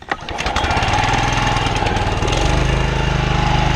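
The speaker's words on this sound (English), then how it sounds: "First pull on a mower that's almost 20 years old." A nearly 20-year-old John Deere JE75 self-propelled lawn mower engine catches on the first pull and settles into a loud, steady, close-up running drone that holds to the end.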